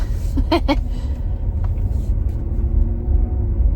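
A car drives along a road, heard from inside as a steady, loud low rumble throughout, with a couple of brief tonal chirps near the start and no one talking.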